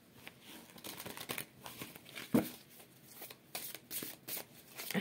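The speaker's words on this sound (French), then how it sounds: "Allez, on va prendre une petite carte avec l'oracle de l'intuition." Tarot oracle cards are shuffled close by, giving soft papery riffles and crinkly bursts in an irregular rhythm, quiet and alone.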